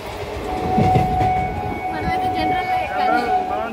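A train pulls into a busy Indian station, its loud rumble and wheel clatter swelling and easing, a sustained tone running through it, while people's voices and station chatter carry on underneath.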